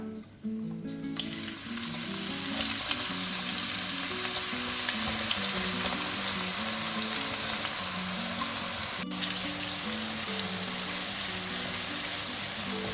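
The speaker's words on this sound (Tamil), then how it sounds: "இங்கே ஒரு பேனில் நான் கொஞ்சமாக எண்ணெய் ஊற்றிருக்கேன். இந்த ஆனியன் பொரிச்சிக்கலாம்." Onion frying in a little oil in a pan, a steady close sizzle and crackle running the whole time, with a harmonic background tone carrying underneath and no talking.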